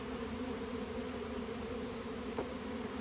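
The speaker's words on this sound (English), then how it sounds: "This is a big enough swarm to make a good bee beard." A swarm of honeybees moving into a bait hive outdoors makes a steady, dense buzzing hum that fills the whole stretch, close and constant, with one brief louder tick near the end and no voices.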